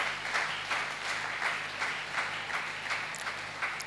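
A church congregation applauding during a sermon, a steady wash of many hands clapping together with faint rhythmic swells, sustained and fairly close throughout.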